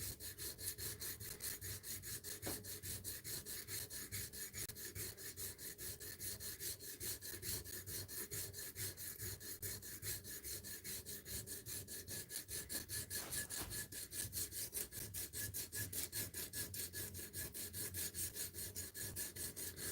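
A knife bevel ground on a sharpening stone, a steady rhythmic back-and-forth grainy rasp of iron on stone, quiet and continuous with no talking.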